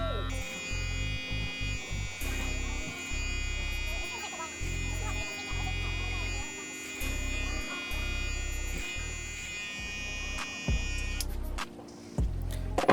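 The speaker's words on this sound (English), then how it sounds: "we're just going to take that down using the clipper over comb technique" Electric hair clippers buzz steadily as a barber works clipper over comb to take bulk off the sides of a slick back high taper, with a close mains-like hum broken by short rhythmic gaps from the comb strokes.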